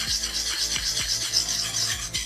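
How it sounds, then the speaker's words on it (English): A survival knife edge is sharpened with circular strokes, producing close, steady rasping swishes that repeat at a regular pace of roughly three per second, with no talking. "if I'm grinding off some burrs and really polishing the edge of this here, I'm just going to do circular strokes"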